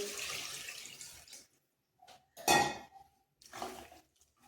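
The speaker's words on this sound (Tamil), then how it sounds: "தண்ணி ஊற்றிக்கிறேன் தேவையான அளவு" Water splashes into a pot in a few short pours separated by quiet gaps, close and fairly loud, while making Chettinad-style country chicken curry.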